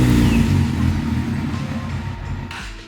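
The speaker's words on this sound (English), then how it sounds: "Same thing, start the engine" A Honda CBR600RR sport motorcycle engine runs on a crash-damaged bike under repair, a loud, close, low rumbling idle that holds steady and then falters slightly near the end.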